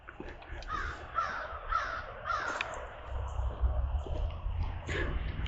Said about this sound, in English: I'm kind of think that these crows may be following me.